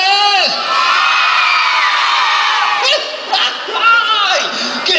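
A crowd of children at a Children's Day event in a shopping mall shouts and cheers loudly in long, sustained bursts, with a few whoops rising near the end.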